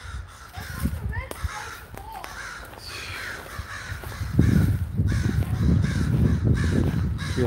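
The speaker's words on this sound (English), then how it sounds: "crows, listen to that" Crows caw repeatedly outdoors near a messy shop, harsh calls rising over steady background noise, with a voice faintly present.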